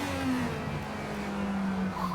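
Damaged IndyCar engine in a Forza racing game at Laguna Seca, a strained droning tone that sags in pitch, steady and fairly loud with no talk over it.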